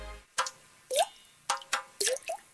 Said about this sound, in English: That's the sound of water coming from leaking pipes.